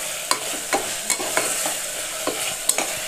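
Boiled double beans sautéed in a pan, with a run of scraping stirs against a steady low sizzle, close and moderately loud, no voices.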